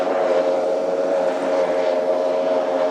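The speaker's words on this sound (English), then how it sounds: "you see that boat drifting and sliding down through the bottom turn" Offshore superboat racing engine roaring steadily, a continuous loud droning hum from a racing powerboat sliding through a bottom turn at the Corio Bay offshore superboat race, heard from a distance with no pauses.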